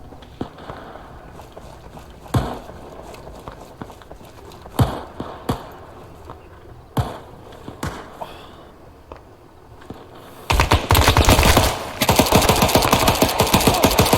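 Gunfire in the ARMA 3 combat game: scattered single gunshots echo across the first ten seconds, then dense, loud automatic fire erupts and rattles continuously to the end.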